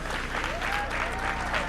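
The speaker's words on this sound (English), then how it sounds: "a big shout out to Asbury Park and a thunderous round of applause for Kane" Conference audience applauding in a hall, a steady dense patter of many hands clapping at moderate volume throughout, with a faint voice or tone briefly audible over it.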